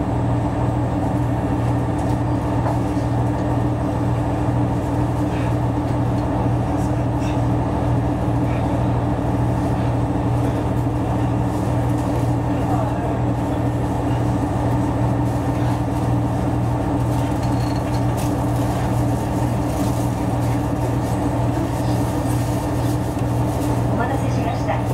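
An Echigo Tokimeki Railway ET122 train on the Nihonkai Hisui Line departs and runs, rumbling steadily with a constant low drone and rattling wheels throughout, close and loud, with voices faintly audible underneath.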